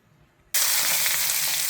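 Two or three spoonfuls of hot oil in a pan for chicken biryani burst into a loud, steady sizzle after a quiet start, as something drops in, close up and continuing without talk.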